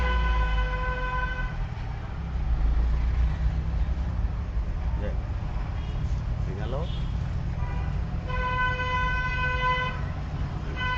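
A car horn sounds two sustained toots, one at the start and another near the end, amid road traffic noise and passing vehicle rumble during a driving lesson in Sylhet, with a voice speaking over it.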